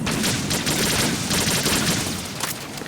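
Rapid bursts from a suppressed AK rifle in Metal Gear Solid 2, a dense, continuous stream of muffled shots at close range with no voices.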